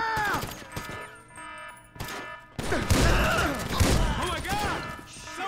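In Grand Theft Auto V, bursts of gunfire and thuds mix with chaotic game sounds and excited voices. The mix is loud and cluttered, and the shots are partly masked by talking.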